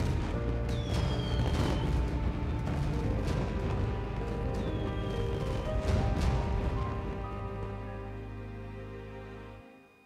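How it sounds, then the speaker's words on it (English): Fireworks bursting close overhead in Persona 5 Strikers, a few loud booms with whistling rising streaks over a dense, continuous crackle and rumble that fades out near the end. "Man, I never saw fireworks from that close up before."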